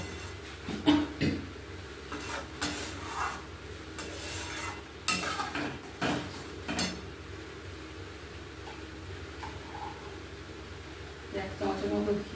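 Garam masala and a little ghee are mixed in a frying pan. Intermittent spatula scrapes and knocks sound over a faint sizzle, with someone talking in between.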